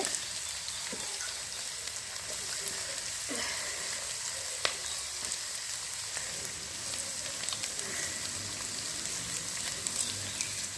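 Pirandai (adamant creeper) sautéing with tamarind in a pan for pickle, a quiet steady sizzle and crackle with a few sharp pops along the way, close and unbroken, with no talk.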